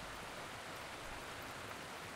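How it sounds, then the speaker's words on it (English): Heavy rain pouring down in the Realm of Thrones mod, a dense, even hiss of falling water held steady and fairly faint, with no voices. "It's absolutely pouring rain right now"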